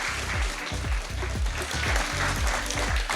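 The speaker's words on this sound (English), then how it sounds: "please give a round of applause for our wonderful alumni" An audience applauds an alumni panel at an open day, a steady dense wash of clapping that continues throughout.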